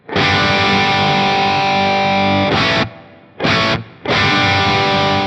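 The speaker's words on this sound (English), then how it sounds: "This is such a great reverb." Electric guitar played through a Fractal FM3 with a London plate reverb at a low mix, a loud sustained distorted classic-rock chord ringing out, then two short choppy stabs before another held chord, with no talking.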